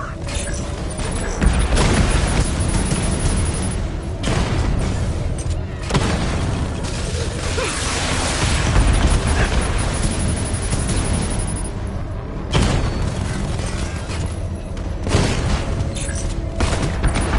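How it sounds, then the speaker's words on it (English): Batmobile cannon fire and explosions in Batman: Arkham Knight, a dense, loud barrage of booming blasts and bursts with brief lulls, mixed with game voice dialogue. "Now I can get close and concentrate fire on the cloudburst."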